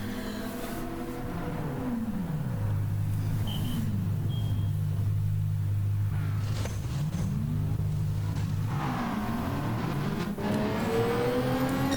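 A race car in Gran Turismo 7 pulls through a pit stop, its engine held at a steady droning pitch while on the limiter, then revving up and down loudly before and after, with a continuous close rumble throughout.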